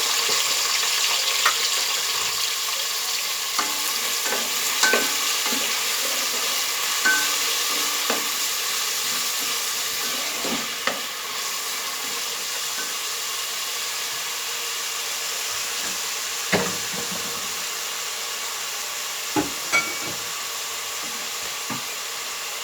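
Chopped onions stirred and sizzling in hot oil for an okra bhindi dish, a steady frying hiss throughout with occasional spoon scrapes and clicks against the pan, close and moderately loud.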